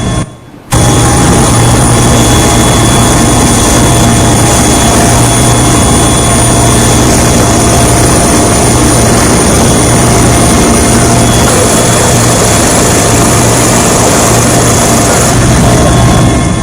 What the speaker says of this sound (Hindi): हेलीकॉप्टर पहुंचे और हेलीकॉप्टर ने पुष्प वर्षा शुरू की।